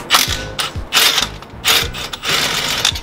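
A hand ratchet works loose the two bolts on the front brakes of a 2011 Toyota Corolla, giving repeated bursts of rapid clicking that come in four close, loud strokes with short pauses between.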